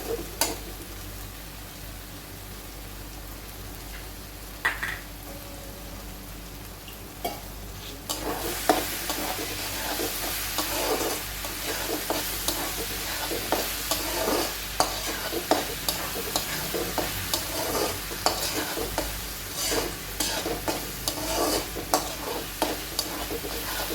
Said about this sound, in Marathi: हे 2 मिनिटं आपण चांगलं परतून घेणार आहोत.